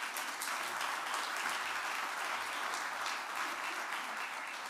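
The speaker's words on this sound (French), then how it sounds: "Merci de l'accueillir et de l'applaudir." At an awards ceremony an audience gives a fairly soft, even round of applause to welcome a performer onstage, a continuous patter with no speech over it.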